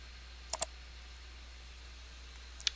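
Computer mouse clicks during a MetaTrader 4 software installation: a quick double click near the start and a single click near the end, crisp and close against a quiet room hum.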